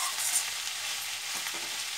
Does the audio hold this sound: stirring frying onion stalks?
yes